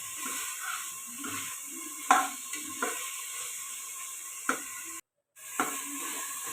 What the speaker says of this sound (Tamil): இந்த தக்காளி கொஞ்சம் வதங்கி வரணும்